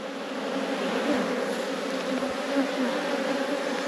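Honeybees buzz loudly and continuously at close range as a frame is lifted from a hive in a productive apiary, a dense steady hum with no talking.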